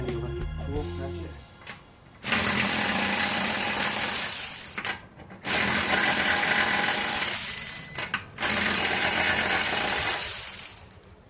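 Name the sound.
electric ratchet removing car wheel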